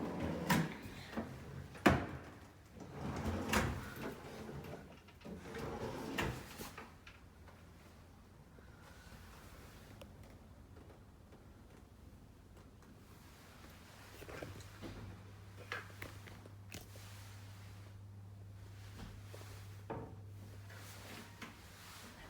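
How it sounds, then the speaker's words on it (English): Soft-closing kitchen drawers and cupboard doors are opened and shut several times in an empty house during an ingoing inspection, giving muffled thumps, slides and clicks that are busier at first, then sparse and quiet, over a low background hum. "they're all soft closing doors and drawers"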